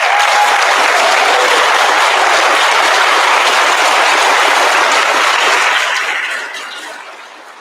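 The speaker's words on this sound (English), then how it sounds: "And a round of applause for that." Loud, dense applause from a large audience at a ceremony marking international recognition of the Moravian Church settlements, sustained for about six seconds and then fading away.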